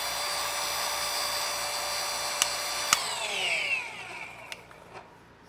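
A Rupes iBrid HLR15 5-inch cordless polisher runs with a steady high motor whine and a few sharp clicks, then spins down with a falling pitch toward the end. No voices.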